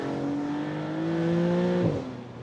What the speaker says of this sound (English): Just carrying second gear easily to 100 kilometers an hour.